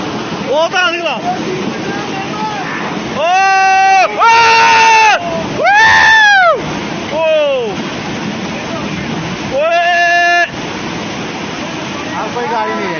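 Cloudburst floodwater rushing through Dharamshala, Himachal Pradesh, makes a constant broad roar beneath loud, excited shouting voices that come in bursts throughout.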